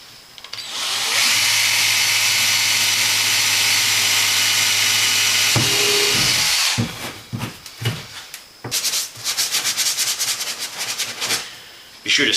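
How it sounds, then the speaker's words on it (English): A power drill boring holes into a kayak hull for a hatch installation, a loud steady whine for several seconds, then short intermittent bursts of drilling close by. "I've got it clamped down to the kayak so I can mark the holes to drill into the kayak hull"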